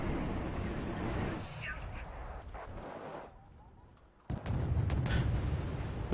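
Artillery bombardment in the Wargame Red Dragon strategy game: a dense, sustained barrage of distant booms and gunfire rumbling continuously, easing briefly before surging back louder near the end.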